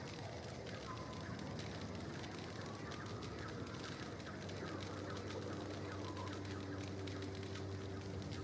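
A monkey bird creature in The Outer Worlds video game gives clucking, bird-like calls amid a steady outdoor game ambience, with faint voices in the background.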